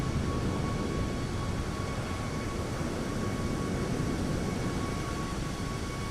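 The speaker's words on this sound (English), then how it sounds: "whooshing around with chase plane doing its cinematic thing" Steady broadband rush of a Boeing 737 MAX 8 passing in a flight simulator chase-plane view, a continuous airy whoosh holding at even loudness throughout with no talking.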